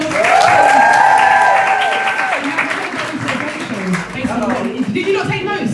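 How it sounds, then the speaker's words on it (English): An audience at a live salon hair-care session claps and cheers, loud at first and gradually thinning, with voices, laughter and a singing tone woven over the applause. "Round of applause for Mother once more."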